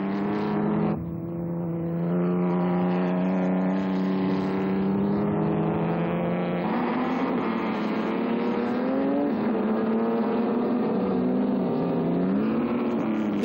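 A 2-litre ERA racing car engine drones loudly and steadily through a race, its note shifting with gear changes and throttle as the car clips the curb and pulls hard, with no voices over it.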